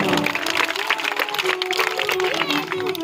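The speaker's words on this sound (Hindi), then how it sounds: "इनके लिए भी जोरदार तालियां।" A crowd at a village Bhagavat Katha gathering claps loudly together, a thick, continuous burst of hand claps lasting a few seconds with some voices mixed in underneath.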